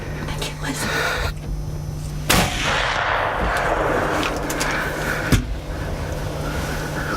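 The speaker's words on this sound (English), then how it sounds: "he aims his muzzleloader at the moving target" Two sharp, loud muzzleloader rifle gunshot bangs a few seconds apart, each with a brief rolling tail, over steady outdoor background noise.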